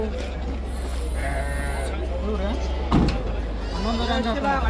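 Goats bleat at a Thursday morning goat market in Haveri, Karnataka, several calls rising over a constant hum of crowd chatter and market noise, with people talking nearby throughout.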